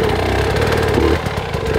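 Dirt bike engine revving under throttle control at a motocross track, a steady loud mid-pitched drone with small surges that dips briefly near the end.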